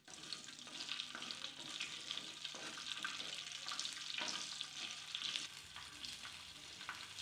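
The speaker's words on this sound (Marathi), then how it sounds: "हे तेलावरती आपण आता भाजून घेतोय।" Garlic cloves, mustard seeds and green chillies sizzle and fry in hot oil for a raw tomato chutney, with steady crackling spatter and occasional stirring scrapes throughout, close and fairly loud with no voices.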